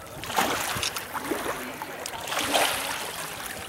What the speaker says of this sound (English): And that river's a flowing too.